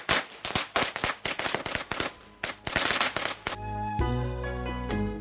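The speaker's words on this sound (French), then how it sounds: "d'allumer quelques pétards." Firecrackers are set off for the New Year, producing a rapid irregular string of loud, sharp bangs and crackles. The bursts then give way to a sustained ringing, tonal drone.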